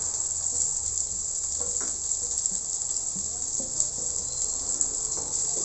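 Fried okra pieces tipped into a hot frying pan with cashews give off a steady, high, hissing sizzle, with faint occasional clinks and stirring sounds underneath.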